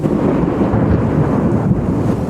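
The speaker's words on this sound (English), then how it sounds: "We have the sound of like thunder." A deep, loud rumble rolls on without a break, heavy low-end roar of thunder with no clear start or end in the short span.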